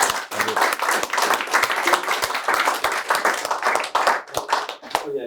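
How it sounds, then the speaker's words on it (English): A seminar audience gives a round of applause, a modest group's clapping with individual claps distinct and fairly close, sustained steadily before thinning out near the end. "a little round of applause"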